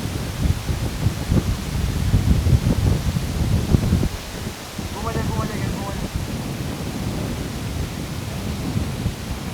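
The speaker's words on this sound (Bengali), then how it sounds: "বাতাস, চমৎকার বাতাস, পুরা ফ্লো।" Strong wind blows across a road on Maheshkhali island, roaring and buffeting the microphone in heavy low gusts that ease after a few seconds. A brief muffled voice comes through midway.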